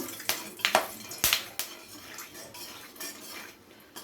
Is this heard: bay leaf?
yes